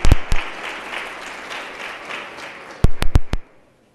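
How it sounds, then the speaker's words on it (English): Steady applause from a committee meeting audience fills the room for several seconds, then a few loud, separate claps ring out near the end before everything stops. "Can I hear you clapping hands for the speaker?"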